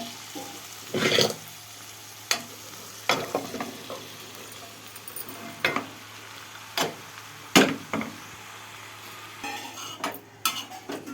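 Ridge gourd frying in a pan, a soft sizzle running underneath while a utensil clatters and scrapes against the pan in scattered sharp knocks, close by with no talking.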